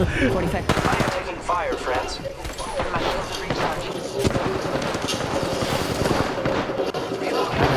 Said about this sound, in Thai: โอ้ยิงกันเก่งแท้